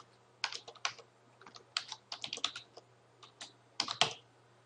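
Sign-in details being typed on a computer keyboard: quiet, close key clicks in irregular bursts with short pauses between them.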